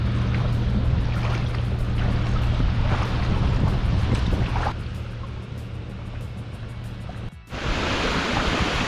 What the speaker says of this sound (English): So water is just pouring off of this mountain.